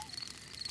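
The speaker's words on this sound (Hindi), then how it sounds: "ये कीड़ों की चींची आवाज है।" Cartoon crickets chirp at night at a family campsite, a faint, steady high-pitched trill with no voices over it.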